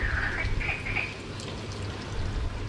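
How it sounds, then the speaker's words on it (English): Frogs croak at a pond in Corfu, a few brief calls repeating in the first second over a steady low hum of outdoor background noise. "You can hear the frogs."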